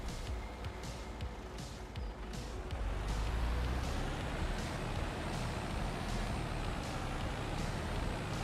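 A truck in Farming Simulator 25 idles and rumbles close by with a sharp air-brake hiss, steady loud engine drone that swells around midway and holds, no talk.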